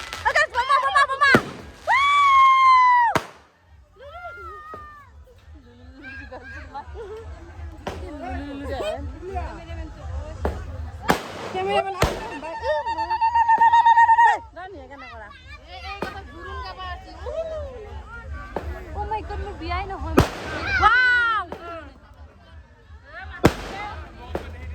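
Firecrackers burst at an Assamese Muslim wedding, sharp loud cracks scattered through the clip with crowd chatter and speech around them.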